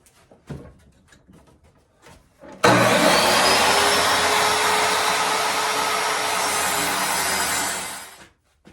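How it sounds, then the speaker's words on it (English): A chop saw cuts a piece of wood to length: after a few light clicks and handling sounds, the motor spins up into a loud, steady whining buzz for about five seconds, then winds down into quiet. "We're going to move it over to the handy dandy chop saw here and cut it off to length."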